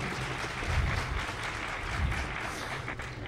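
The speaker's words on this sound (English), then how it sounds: "Round of applause." Audience applause as a girl volunteer comes up on stage, a steady broadband wash of clapping that holds evenly for a few seconds with no talking over it.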